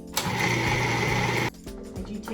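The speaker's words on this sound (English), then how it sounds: "I pulse for a little bit and then hit puree." A kitchen blender purees blueberries for fruit leather, running with a loud steady whir for about a second and a half, then dropping abruptly to a lower, rougher churn as it keeps going.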